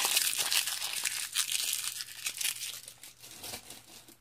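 Crinkly, tearing plastic of a Pokémon card booster pack wrapper being ripped open, a close, continuous crumpling rustle for several seconds with no talking.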